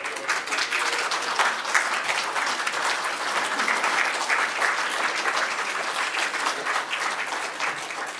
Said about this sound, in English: Kindly rise and welcome her with applause.